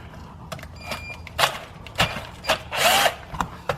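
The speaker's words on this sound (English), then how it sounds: "let's see if we can release these bolts just by with the drill's pressure." A power drill with a T40 Torx bit loosens transmission pan bolts on a ZF automatic gearbox in a series of short, sharp whirring bursts with quiet gaps between them, close by, with faint clicks and mechanical rattles.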